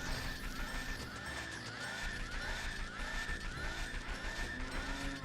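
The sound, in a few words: horse clomping and neighing sound effect in Zelda video game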